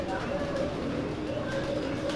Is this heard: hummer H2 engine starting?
no